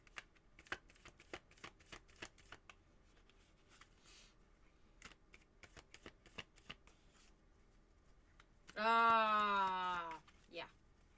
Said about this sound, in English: but I'm going to shuffle them a little bit more.